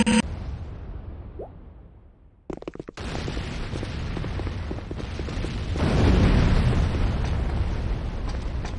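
C4 explosive detonates in Command & Conquer Renegade with a loud boom and broadband burst, followed by a sustained roar of rumbling battle noise that swells louder toward the end.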